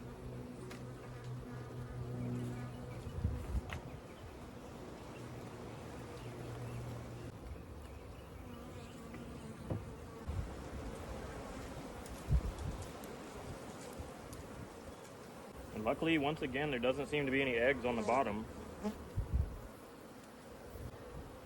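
Honey bees hum steadily around an opened hive during a cut-out, a low sustained drone with a louder, denser swell late on, while a person talks over it.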